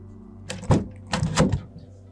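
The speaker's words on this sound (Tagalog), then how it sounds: "Marahas niyang kinatok ang pinto. Nang walang sumagot, kumatok siya ng kumatok" Repeated forceful knocking on a wooden door in a dramatized horror story, two separate bursts of heavy knocks about half a second apart, close and loud with no talking.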